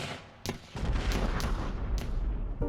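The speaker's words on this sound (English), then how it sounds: "It was followed by gunfire." Sustained gunfire during an armed prison uprising at Alcatraz in May 1946, with sharp cracks punctuating a dense, continuous rumble of shots and booms.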